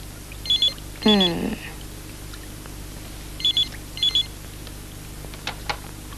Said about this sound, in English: Oh, that damn phone.